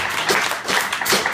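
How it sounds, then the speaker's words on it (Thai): Audience applause for the staff at a small live music gig in a bar venue, a short burst of close, dense clapping with a few distinct claps standing out. "ขอเสียงปรบมือให้ทีมงานหน่อยฮะ"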